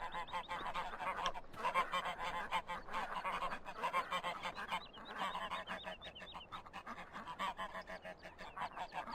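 Geese in the Farming Simulator 15 video game honk repeatedly in a noisy, overlapping flock chorus that carries on without pause, fairly close and loud.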